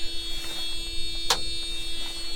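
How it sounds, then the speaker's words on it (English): At start-up, the warning buzzer of a JCB 6T cab dumper gives one brief, sharp beep over a steady electrical whine and a low hum. "Fire it up, the old buzzer will come on obviously."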